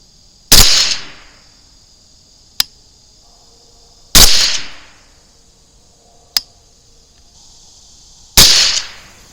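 Three suppressed rifle shots ring out on a range, each a loud, sharp report with a short decaying tail, spaced about four seconds apart, with faint clicks between them.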